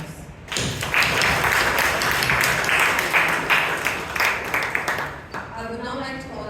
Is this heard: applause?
yes